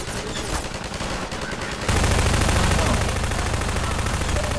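Gunfire in Half-Life 2: dense, rapid automatic bursts over a busy game soundscape, growing louder and heavier partway through, with no talk over it.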